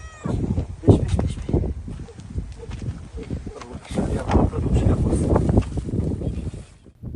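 Cats gathered around a young Garmiyan shepherd's home meow among other animal and household sounds, with people talking over most of the stretch.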